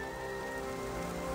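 Rain falls steadily on a surface, a continuous soft patter with a faint background tone, even and unbroken throughout.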